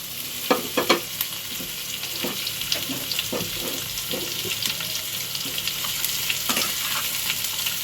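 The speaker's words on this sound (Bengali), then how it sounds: "চিচিঙ্গে আলু পেঁয়াজ, এটা কিন্তু একসাথেই ভাজা হবে।" Snake gourd, potato and onion frying together in hot oil, a steady soft sizzle broken by scattered clinks and scraping stirs, close and moderately loud with no talk.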